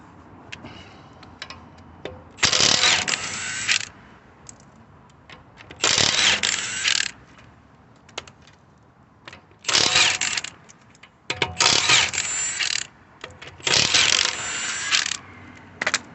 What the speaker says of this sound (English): First we're going to take off the wheel nuts.